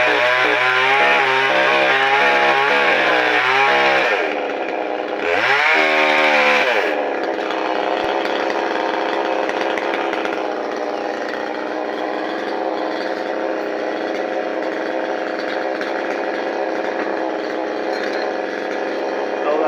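A chainsaw cuts a felled coconut tree trunk into pieces, its engine loud and close, revving through bursts and then holding a steady, buzzing drone with no talking over it.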